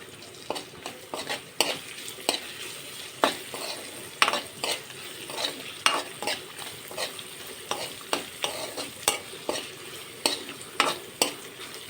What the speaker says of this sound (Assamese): এইখিনি এতিয়া অলপ ভালদৰে হিলাই দিম, নহ'লে লাগি ধৰিব।